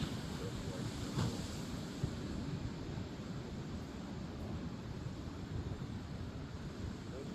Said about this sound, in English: There's like big rocks right here to break the tide, I think. Break the waves.